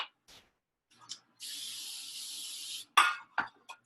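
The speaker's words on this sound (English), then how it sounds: "Sprayed with non-stick spray, lined in the bottom, good to go." Non-stick cooking spray sprayed into a cake pan, one steady close hiss of about a second and a half, set between faint clinks and handling sounds of the pan.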